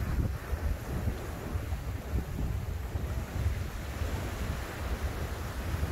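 Ocean surf and strong wind at Ala Moana Beach Park on a windy day, heard as a constant broad roar with rolling wave wash and gusts buffeting the microphone, with no speech.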